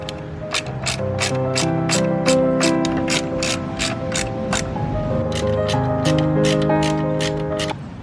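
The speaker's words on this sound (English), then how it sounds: "I'm gonna tighten all that down and we shall see." A socket ratchet tightening a nut and bolt down on a mechanism, making a rapid, loud clicking of the pawl in steady strokes, close up and continuous, with a slight pause in the middle.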